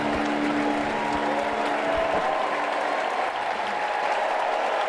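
Baseball stadium crowd at a Dodgers versus Nationals game applauding a young pitcher chasing his tenth strikeout, a sustained wash of clapping and cheering from many fans, steady and fairly distant throughout, with no talk over it.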